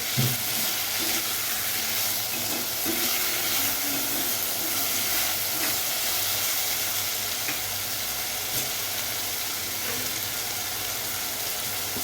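Sabudana khichdi with potatoes, salted and mixed, cooks in a covered pan with a steady, close sizzle and faint hiss that runs continuously and evenly, with no talking.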